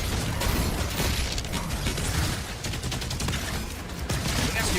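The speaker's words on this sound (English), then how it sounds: "Now I'm getting sniped." Dense, continuous gunfire and explosive bursts from the medieval shooter DOOM The Dark Ages, with rapid mechanical clatter and pops layered into a loud, unbroken wall of combat noise.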